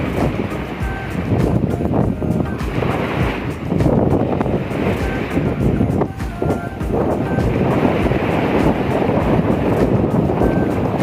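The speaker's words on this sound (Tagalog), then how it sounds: "Lakas ang alon ngayon." Strong ocean waves surge and wash at a beach, loud and close with rolling swells of surf, mixed with heavy wind buffeting the microphone throughout.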